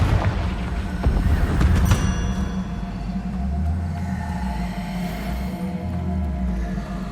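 Fiery Confringo spell blast in the game Hogwarts Legacy, a deep, booming explosion with a rumbling low tail, heard over a continuous layer of game sound.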